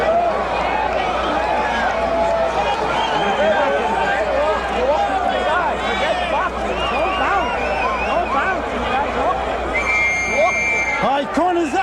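Dense, loud crowd roar at a boxing match with Muhammad Ali, a continuous bedlam of shouting voices filling the arena without a break.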